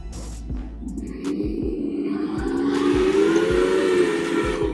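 Smoke system running on a Heng Long RC tank: a continuous hiss with whistle-like tones over a steady low rhythmic engine-like thudding, close and sustained throughout.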